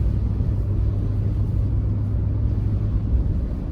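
A car driving through a snowy whiteout, a steady low engine and road rumble with constant broadband noise, continuous and close, no talking.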